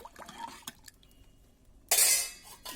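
A spatula scrapes and clinks through rice in a cooking pot, scattered soft taps followed by a louder, wetter scraping burst, quiet and close.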